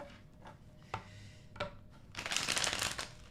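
A deck of tarot cards is shuffled by hand, with a few soft isolated taps and slides followed by a dense, crisp riffling burst near the end, close and fairly quiet.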